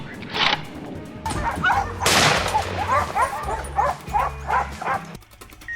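A pack of hunting dogs barks and yips in quick repeated bursts while chasing wild boars, loud and fairly close, with whimpering yelps between the barks.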